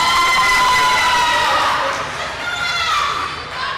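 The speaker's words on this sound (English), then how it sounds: "Crowd getting fired up here as we are staring down the final obstacle." A crowd at a youth ninja competition for 10-11-year-olds cheers and shouts as a competitor faces the final obstacle, a dense, sustained roar of children's and adults' voices with whistling shouts rising and falling.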